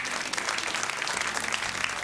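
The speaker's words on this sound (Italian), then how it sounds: "Un bel applauso, signori." Studio audience clapping to welcome a guest on a Sardinian singing parody show, steady and fairly distant, a continuous patter of many hands with no voices over it.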